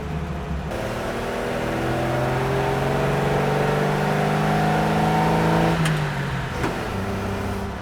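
An old Chevy truck engine revs past 3,000 rpm, its pitch climbing steadily into a loud sustained roar, then dropping back quickly as the throttle closes, with no talk.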